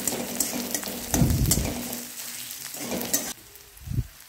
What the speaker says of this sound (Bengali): পেঁয়াজগুলোকে একটু নেড়ে চেড়ে ভেজে নিচ্ছি